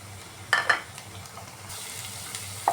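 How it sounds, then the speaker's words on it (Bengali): Spice masala of ginger-garlic paste, salt, turmeric, chili, cumin and coriander powders fried and stirred in a pan: a steady soft sizzle with a few sharp spoon scrapes and clinks near the start and end. "মশলা কষানো হয়ে গেছে"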